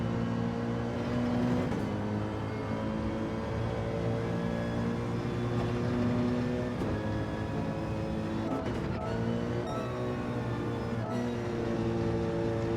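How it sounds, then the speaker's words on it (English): A Mercedes-AMG GR3 race car engine in Gran Turismo 7 at Spa, a steady, continuous motor drone with layered harmonic tones that shift slightly as the car drives on. "it's a lovely sound out of the engine of the AMG"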